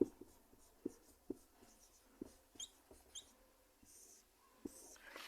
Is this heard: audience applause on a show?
no